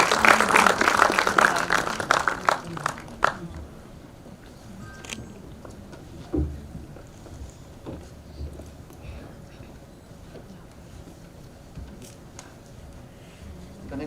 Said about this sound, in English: Please give a huge round of applause for all our panelists.